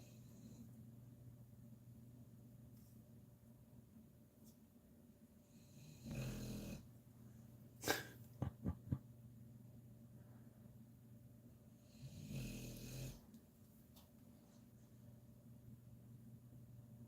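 A sleeping dog snores softly, two slow breathy rasps spaced several seconds apart over a quiet indoor hum, with a few sharp small clicks between them.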